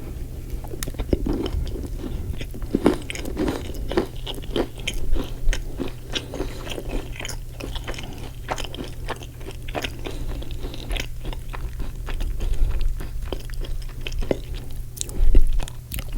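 Close, crunchy chewing and biting on a white chocolate macadamia nut cookie, with repeated crisp bites and wet mastication over a low steady background hum.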